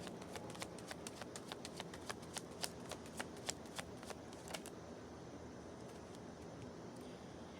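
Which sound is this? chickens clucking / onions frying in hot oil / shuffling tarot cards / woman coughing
shuffling tarot cards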